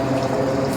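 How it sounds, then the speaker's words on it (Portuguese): Cabbage cooking water poured into a pot of tomato-sauced cabbage rolls, a steady close watery wash with a low pump-like hum beneath, continuous and fairly loud through the short moment. "vou colocar a água do cozimento do repolho"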